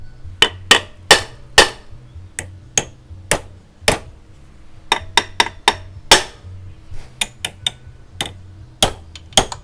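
A hammer striking to knock the magnet out of a 125Z motorcycle engine, sharp metallic blows in uneven clusters of two and three, close and loud, with a low hum underneath.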